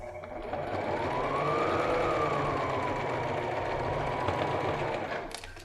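A sewing machine runs steadily while stitching a fabric handbag, making a continuous close whirring hum that starts up and slows off near the end, alone without talk.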